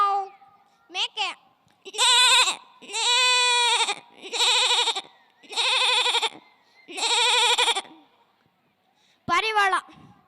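A child mimics a goat with four or five loud, wavering bleats in close succession, framed by short vocal bursts, performed alone as part of a children's mimicry show.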